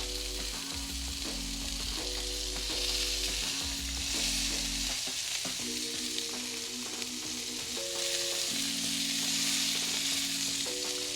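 A smash burger patty heaped with onions sizzles and fries steadily on a hot griddle, a loud continuous crackle with a low background hum underneath.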